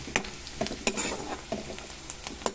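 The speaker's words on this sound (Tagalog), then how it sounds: "Golden brown na yung bawang yan nauna." Garlic sautéing golden brown in a pan for ginisang kamatis, with a soft continuous sizzle and sharp stirring clicks and scrapes of a utensil recurring every half second or so.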